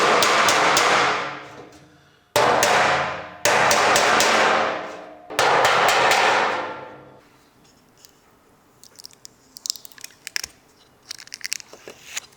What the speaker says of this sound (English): So I'm going to hammer those flat and offer up the new sender.